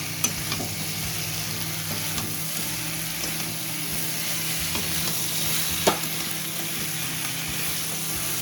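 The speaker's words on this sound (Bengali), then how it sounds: "এবার দিয়ে দেবো পেঁয়াজ কালিগুলো, দিয়ে আবার ভালোভাবে একটু করে নাড়াচাড়া করে নেবো" Onion stalks stirred in a frying spice masala for a lata fish dish, a steady close sizzle with soft scraping stirs and occasional spoon clinks throughout, no talking.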